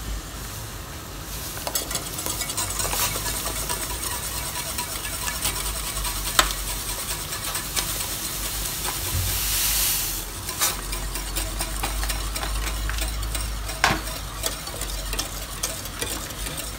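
Steady scraping and swishing of a spoon stirring thick polenta in a pot, continuous and close, with a bubbling sizzle underneath.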